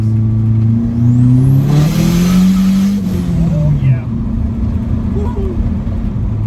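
An SRT4-swapped Dakota pickup with the boost turned up accelerates hard in second gear with its tires spinning: a loud, close engine roar climbs in pitch with a whining tone, then settles into a steady drone.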